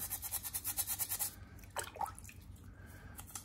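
A toothbrush scrubs a pump part in rapid back-and-forth strokes for about a second, then falls silent apart from a few faint wet clicks and a brief squeak.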